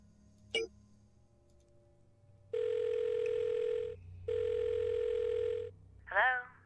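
In the point-and-click game The Blackwell Deception, a short chirp is followed by two long, steady telephone ring tones separated by a brief gap. A voice briefly answers at the end.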